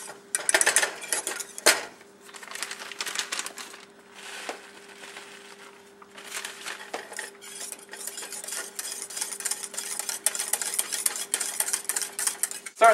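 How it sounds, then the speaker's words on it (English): A utensil stirs melting cheese sauce in a pan, irregular scraping and clinking strokes close up with brief pauses, continuing steadily over a faint hum. "Stir it good, make sure there's no little pieces getting out."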